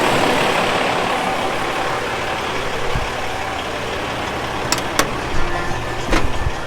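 A truck engine idles nearby in a steady, low rumble, with a few faint clicks and knocks rising over the drone toward the end.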